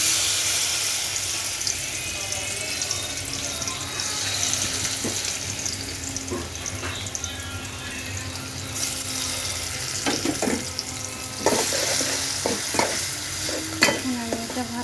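Garlic fries in a pan for a chicken dish: a steady close sizzle runs throughout, with scraping stirs and a few sharp clatters near the end.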